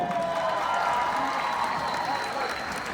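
A crowd in a gymnasium at a Fremont High School Hall of Fame rally cheers and applauds in a continuous, even wash of clapping and shouting, with a voice talking faintly underneath.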